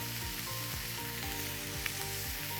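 Onion frying in a hot pan, with a steady, close, continuous sizzle and crackle throughout, no talking.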